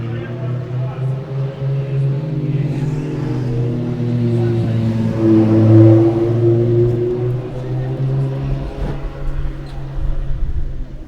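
A drift car engine in a qualifying run at Sochi roars and revs at a distance, its drone swelling and easing over about ten seconds beneath a layer of crowd and commentary noise.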